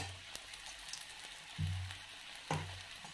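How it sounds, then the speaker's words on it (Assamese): Potato patties, two at a time, fry in a pan with a faint, steady sizzle, broken by a couple of soft thuds as the pan or patties are moved. "এই ধৰণে ভাজিছোঁ"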